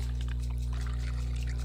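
Water being drawn and poured in the Alice Mare video game, a short continuous pouring splash over a steady low game hum, with no talking.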